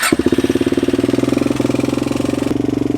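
A quad ATV engine, not run in a while and started without choke, chugs at a loud, close, rapid steady idle with a pulsing beat.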